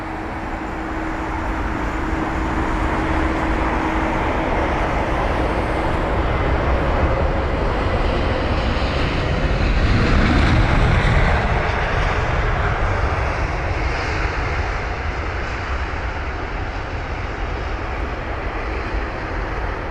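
An Emirates Airbus A380 arriving at London Heathrow roars past, a broad loud engine rumble that swells toward the middle and slowly fades, with no voices over it.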